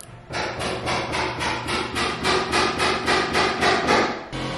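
Hammering during a kitchen renovation, a rapid run of about a dozen evenly spaced, loud close blows, each ringing briefly before the next strike, with no talking.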